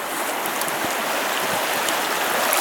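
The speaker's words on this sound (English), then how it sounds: "Just a nice, long chute that's shooting down through here of water. Really fast flow, a lot of current" A fast-flowing trout stream rushes through a long chute with strong current, a loud, dense, continuous roar of water, close and unbroken, with no voices.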